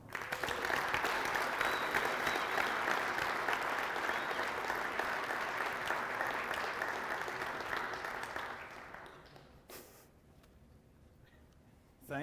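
Sustained audience applause at a Wi-Fi Trek 2018 conference welcoming keynote speaker Tom Carpenter, a dense, steady clapping from a large crowd that fades out after several seconds, followed by quiet room tone.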